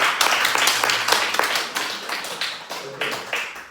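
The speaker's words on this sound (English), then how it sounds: "applause." Audience applause at a talk by a monk, with brisk, fairly loud clapping that gradually thins, and some voices mixed in.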